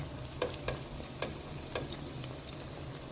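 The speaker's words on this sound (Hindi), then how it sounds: "अब इस पॉकेट्स को जो है हम फ्राई करते हैं एक एक कर।" Bread pockets frying one by one in hot ghee, a soft low sizzle broken by a handful of sharp crackling pops, fairly quiet and close, with no voices.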